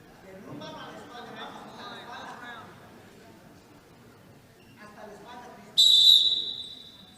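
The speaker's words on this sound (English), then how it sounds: "And the whistle sounds, and the next round" A referee's whistle gives one loud, sharp blast at a high school boys' wrestling match in a gym, following a stretch of commentary and crowd murmur.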